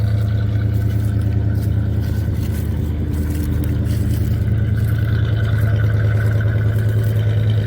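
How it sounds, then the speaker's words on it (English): A 1978 Chevy C10 pickup engine idles after a cold start, a steady, loud, low rumble that runs unbroken throughout with no talk. "I just thought I'd show you the old truck and let it run for just a few minutes"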